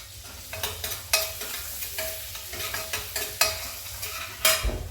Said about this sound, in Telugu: ఫస్ట్ వెల్లుల్లి వేసుకుందాము బటర్లో వేగితే చాలా బాగుంటాయి వెల్లుల్లి